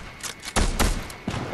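Gunfire in the Fortnite video game: several sharp broadband shots in quick succession, loud and close, with a brief gap before another burst, over a faint game background.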